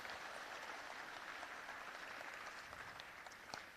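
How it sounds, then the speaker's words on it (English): An audience claps at a council meeting, a sustained round of applause at moderate distance that holds steady and then tapers slightly near the end, without speech over it. "So let's give it a round of applause."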